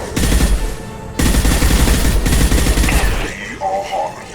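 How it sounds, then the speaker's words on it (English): Impact shot weapon fire in the Mass Effect 2 video game: loud, dense bursts of heavy gunfire roar up close, break off briefly, then fade out under a synthetic tone. "Firing an impact shot."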